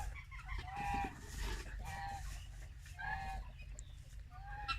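Chickens, among them a young rooster, cluck and call in repeated short bursts over a steady low rumble of background noise at a moderate distance, with no talking.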